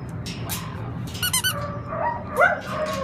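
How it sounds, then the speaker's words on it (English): A squeaky dog toy gives a quick cluster of sharp squeaks at an animal shelter. A dog yips and whines nearby against a low background murmur. "what if I show you the squeaker?"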